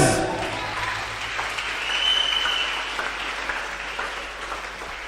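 A church congregation applauds during a worship programme, sustained clapping filling the room, steady and fairly loud, with faint voices mixed in.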